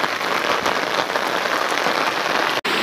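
Heavy rain pours down in a village during flooding, a loud, dense, steady hiss of drops striking surfaces that continues without pause except for a momentary cut near the end, with no talk.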